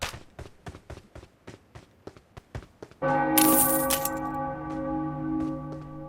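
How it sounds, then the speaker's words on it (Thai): A large bell rings at a castle in the video game PUBG. A run of quick footsteps comes first, then a single loud, resonant bell strike that hums and slowly fades. "เมื่อเราลงมาในปราสาทได้ยินเสียงหลวงพ่อตีระฆัง"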